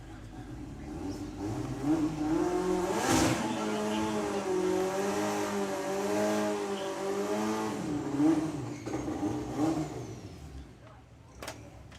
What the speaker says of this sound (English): So Ali Alesta with the Ninja Junior Drag Bike.